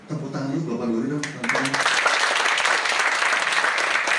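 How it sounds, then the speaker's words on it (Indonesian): Audience at a seminar break-out session on small businesses bursts into applause after a brief spoken line, the clapping filling the room loudly and continuing to the end. "sebelum kita mulai satu aja tepuk tangan dulu Bapak Dori dong."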